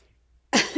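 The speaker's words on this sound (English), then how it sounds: "I feel a sneeze coming on." A single abrupt sneeze bursts out after near silence, close and loud, with a short trailing breath at the end.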